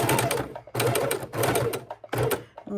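A sewing machine stitches quilt binding, running in three bursts of rapid mechanical chatter separated by short pauses, close and loud, with no talking.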